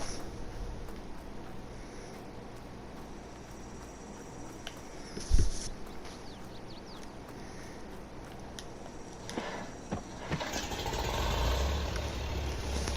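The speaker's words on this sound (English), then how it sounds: "I love that old sound of this tractor here starting up" An old tractor engine in Farming Simulator 22 runs at a low, steady idle rumble, faint and continuous. One brief thump lands near the middle, and a slightly rougher stretch of engine noise comes toward the end.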